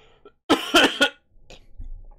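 A quick burst of three or four harsh coughs close by, followed by quieter throat noises.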